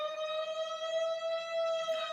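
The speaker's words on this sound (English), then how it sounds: "Sorry for that fire horn" A town fire siren wails in a steady, sustained tone, held constant and prominent with no talking over it.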